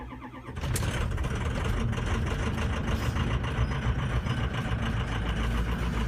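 A car engine cold-starts with a sharp crank and catch, then settles into a steady, loud idle that runs without a break.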